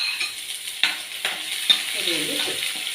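Small shallots fry in hot oil with a gentle sizzle, broken by a few sharp clinks of a spoon stirring against the pan, close by and with no talking.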